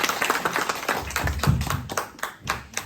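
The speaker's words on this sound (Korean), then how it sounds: "박수 많이 주시죠." A small audience at a workers' history-tour lecture in Gwangju claps for the speaker, a short burst of uneven hand claps that thins out after a few seconds.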